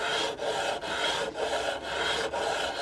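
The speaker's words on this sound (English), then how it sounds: "I'm just going to rub this on the flat stone," A Norton Commando rocker cover is rubbed on sandpaper laid over a flat stone, making close, steady rasping strokes with short breaks, about six back-and-forth passes.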